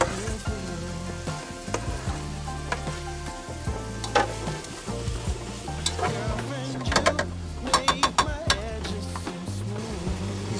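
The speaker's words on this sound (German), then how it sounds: "lass uns jetzt ein bisschen mit einem Tröpfchen Öl in der Pfanne kurz andünsten, dass die Zwiebeln ein bisschen glasig werden" Onions, paprika and garlic sautéing gently in a little oil in a pan, a steady soft sizzle with intermittent stirring scrapes and clinks, close up and without talk.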